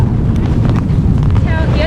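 Strong headwind buffets the microphone on the Helix Bridge in Singapore during the December rainy season, a steady loud rumble throughout with brief voices and a faint whistle-like tone near the end.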